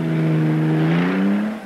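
A 1949 White 3000 Series truck revs hard while approaching a foot-high ramp, a strong steady engine drone with a slowly rising pitch, loud and close, with no talk over it.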